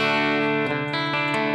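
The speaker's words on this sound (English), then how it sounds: "let's look at this super reverb" An electric guitar played through a super reverb effects pedal, set with depth at 50, gain at 35 and level at 60, rings out as one sustained chord with a thick reverberant wash.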